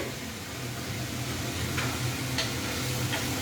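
Cauliflower with black pepper fries in a pan, a continuous close sizzle under a low steady hum, with a few faint utensil clicks now and then.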